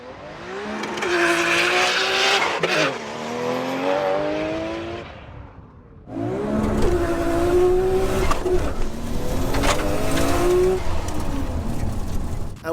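A 20-year-old manual Nissan R34 GTR launching hard, the engine climbing loudly through the revs with a brief pause for a gear change before a second strong pull, tire noise underneath.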